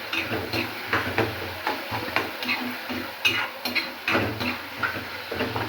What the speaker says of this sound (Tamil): உப்பும் மஞ்சத்தூளையும் சேர்த்துக்கிட்டா வெங்காயம் தக்காளி நல்லா வதங்கும்.